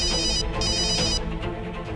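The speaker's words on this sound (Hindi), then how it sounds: "रागिनी के बाबूजी ये मुझे क्यों फोन कर रहे हैं?" A phone rings with an incoming call, a loud electronic ringtone with bright repeating tones that pulse in short bursts, close and alone with no talk.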